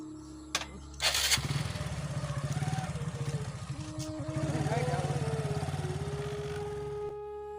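A motorcycle engine cranks and catches near the start, then runs with a steady rhythmic putter throughout, loud and close, with brief clicks at the outset.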